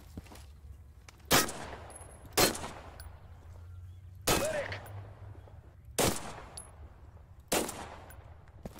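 Five heavy gunshots fired at helmets in the game Total Conflict: Resistance, each a loud sharp crack with a short echoing tail, spaced about one to two seconds apart, with no voices.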